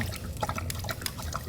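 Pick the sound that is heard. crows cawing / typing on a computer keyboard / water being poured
water being poured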